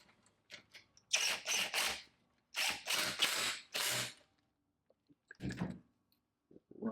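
Ratcheting and clicking of a wrench tightening ground wire connections on a GY6 scooter build, several short bursts of close mechanical ratchet clicks separated by brief pauses.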